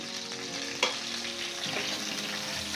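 Mustard seeds and garlic sizzle in hot oil for a tempering, a steady bright frying hiss with a brief crackle and pop near the start, quiet and close with no talk.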